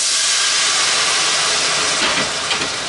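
Madeira and white wine hitting a hot pan to deglaze it, a loud steady sizzling hiss throughout, with no voices.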